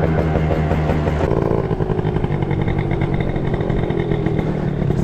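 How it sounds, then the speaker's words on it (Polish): Italjet Dragster 180 scooter engine racing at speed, a loud close buzzing drone that holds high revs with a brief shift in pitch, continuous and alone. "Klaudia chce się ze mną ścigać Fordem"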